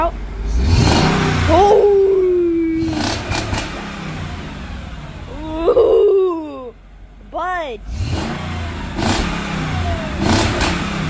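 A Mercedes ML55 AMG with its muffler removed revs in loud, raspy bursts that sweep up and drop back, several separate blips close by, while people exclaim between them.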